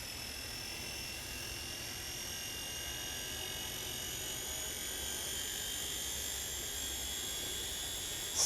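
Steady, fairly faint whine of an XK K110 Blast 6CH RC helicopter's rotor and small motor spinning at low throttle, below half, holding an even pitch throughout with no talking.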